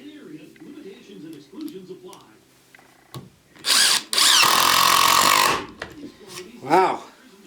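A Dewalt DCF787 impact driver drives 1-inch screws into ash wood, first in a short burst and then in a longer, loud, rattling run. People talk before and after the driving.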